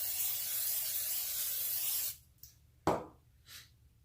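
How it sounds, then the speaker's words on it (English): Cooking spray hisses continuously onto a pan for about two seconds, followed by a few faint knocks and clatters as the can is set aside. "So I'm just gonna use a little cooking spray"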